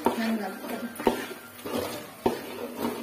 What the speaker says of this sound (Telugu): ఇట్లా వేసి బాగా కలుపుతాను. కలుపుతున్నాను